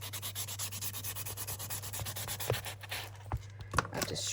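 A junk journal page is rubbed down and distressed with a steady, close scratchy rubbing, repeated in short strokes over a low constant hum, with a few louder scrapes near the end.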